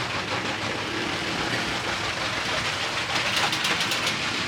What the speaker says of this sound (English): Get our train going around again.